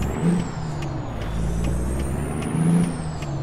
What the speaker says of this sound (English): you can hear the gears grinding and everything else now